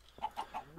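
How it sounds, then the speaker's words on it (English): Chickens in a video game cluck three times in quick succession, short clear bursts evenly spaced and close, with no talking over them. "Annoying ass chickens, shut up."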